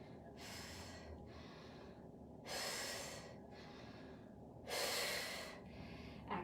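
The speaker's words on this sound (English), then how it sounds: "I'll try to exaggerate that breathing so you don't forget to breathe" Loud, exaggerated breaths in a slow rhythm: three long forceful exhales separated by softer inhales, close and breathy, with no talking.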